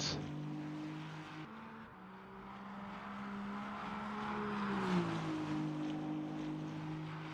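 A race car engine in a sim-racing game at Sebring, a steady droning whine with shifting pitch that swells slightly midway, heard without talk.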